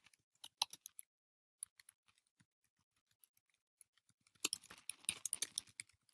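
Light, quick keystrokes on a computer keyboard, faint and close, come in irregular bursts with short pauses, then turn into a denser flurry of typing near the end, with no talk.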